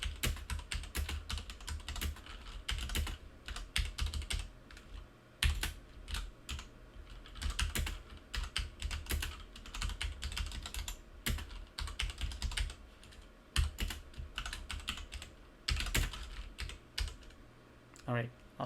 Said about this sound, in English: real quick, I'll test my keyboard